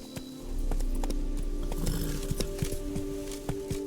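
Hooves of Roach, a horse in The Witcher 3: Blood and Wine, clip-clopping at a steady trot over ground, fairly close, with a low ambient hum underneath and no talking.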